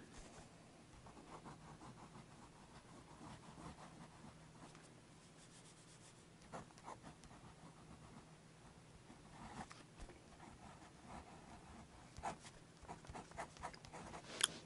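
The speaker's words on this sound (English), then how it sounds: "It really writes well." A Noodler's Konrad fountain pen writing on paper makes faint, close scratching strokes in irregular bursts, quiet and continuous with no voices.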